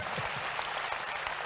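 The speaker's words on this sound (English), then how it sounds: "If you don't clap properly, I won't preach." Church audience clapping at a sermon, a brief dense patter of applause heard at moderate distance, fairly quiet.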